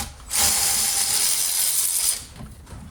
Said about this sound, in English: I've just started to loosen off the two 17mm bolts